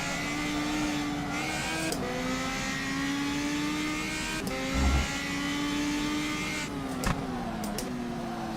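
Race cars in the sim racing game rFactor 2 during a ranked online race, engines revving and shifting up through gears with steady high-pitched drone, brief tire noise and a bump, loud and continuous.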